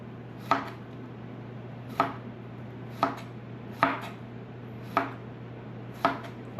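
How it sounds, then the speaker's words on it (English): A knife chops food on a cutting board in six sharp, evenly spaced strikes roughly a second apart, close and crisp over a steady low hum. "Chop up, chop up."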